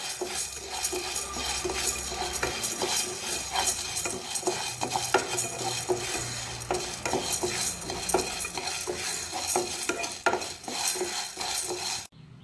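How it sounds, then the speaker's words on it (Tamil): Green gram (mung beans) being dry-roasted in a pan, with continuous rattling, scraping stirs and metallic clinks of a spoon against the pan throughout. "பயரை வறுப்போம்"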